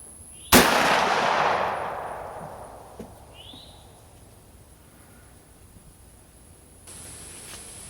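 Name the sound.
one unsuppressed gunshot for a suppressor dB test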